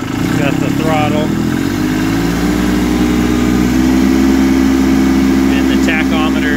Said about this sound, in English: It's a very smooth running engine. I was at full throttle there